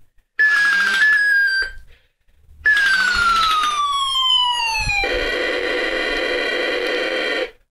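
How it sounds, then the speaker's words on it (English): Electronic nuke sound effect from a toy action figure: two falling, siren-like whistling tones, each dropping in pitch, the second ending in a loud, buzzing, distorted explosion burst, close and loud. "And he does like a little nuke sound."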